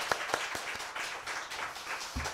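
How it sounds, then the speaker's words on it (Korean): A church congregation claps during a Sunday worship service, with loose hand claps that settle into a steady, somewhat rhythmic patter and a low murmur underneath. "우리 주님께 박수 영광 돌리겠습니다."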